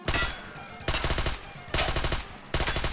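Rapid bursts of automatic gunfire from a modded gun with an attached grip and barrel in the video game Minecraft, roughly four loud fast-repeating volleys with short pauses between them.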